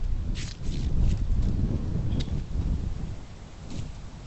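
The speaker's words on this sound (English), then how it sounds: "It's windy out here." Wind gusts buffet the microphone with low, blustery rumbling that swells and eases throughout, with faint rustling in the background.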